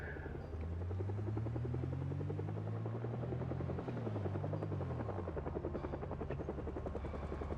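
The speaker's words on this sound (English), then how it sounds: "Well, that is an early helicopter." A helicopter passes overhead in the zombie survival game Project Zomboid, its steady rotor thump and engine drone loud and continuous, shifting pitch slightly as it moves past, with no voices.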